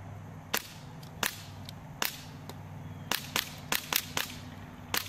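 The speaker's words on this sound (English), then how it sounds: "Asus eePC, more like e-piece of shit, versus Airsoft first gas-powered pistol." Sharp airsoft pellet shots from a gas-powered pistol strike an Asus Eee PC laptop, a dozen or so cracks at uneven intervals, some in quick clusters, over a steady low mechanical hum.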